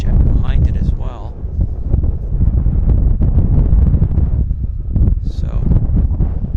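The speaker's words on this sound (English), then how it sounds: "It's so windy." Steady wind buffeting the microphone at Vancouver Airport, a constant low rumble with gusts, while voices talk intermittently over it.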